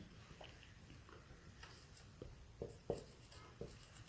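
A name being written on a board during a history lesson: faint, scattered taps and short scratchy strokes, a few slightly sharper knocks near the end, with no talking.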